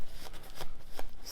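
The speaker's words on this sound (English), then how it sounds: "I'm going to take my paper towel and I am going to rub it." A paper towel is rubbed over gold metal leaf on a handmade jewelry piece, giving a few soft, close scuffing strokes with brief papery swishes.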